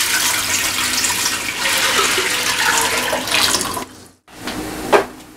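About 2.5 liters of water pours steadily and loudly into a cooking pot, a continuous splashing rush that briefly cuts off, then resumes with a final slosh.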